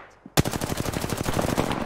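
Automatic gunfire in Apex Legends: a sudden loud burst of rapid, evenly spaced shots fired continuously for about a second and a half, close and dense, no talk.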